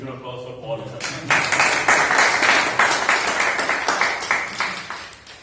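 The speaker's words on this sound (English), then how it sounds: "I think a huge applause for all of them" Applause from members at a club meeting breaks out after a second of talk and holds steady as dense clapping, fading slightly toward the end.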